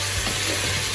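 Marinade is being stirred into browned fried onions in a pot, giving a continuous close sizzle and wet hiss throughout, with no voices.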